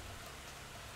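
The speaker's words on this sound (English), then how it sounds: "It's raining today." Steady rain falls outdoors as an even, continuous hiss of broadband noise with a low rumble underneath, holding constant at a moderate level with no voices.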